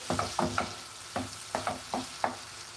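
Vegetables are stirred in a cooking pot while greens are prepared Sierra Leone style, giving about a dozen short scraping, clacking strokes in an uneven rhythm over a faint sizzle, close by and without talk.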